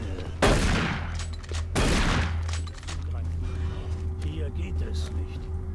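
Minigun fire in the video game DOOM 3, heard as two loud sustained bursts of rapid shots over a steady low hum, with a voice speaking during the shooting.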